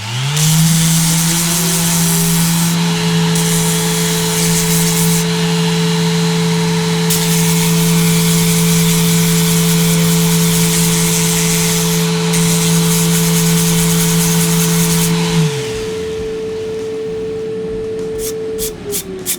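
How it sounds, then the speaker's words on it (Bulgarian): A power sander whines steadily with a harsh scraping rasp as a wire brush is held against its sandpaper to clean it, then spins down near the end. "Взимате една най-обикновена телена четка, пускате шлайфа да работи."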